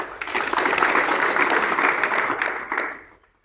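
An audience claps to welcome a speaker to the stage at a speech event on Viksit Bharat 2047, a steady burst of dense applause that fades out near the end.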